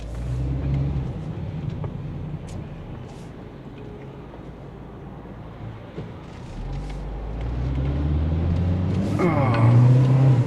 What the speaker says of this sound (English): this little car does not take off that fast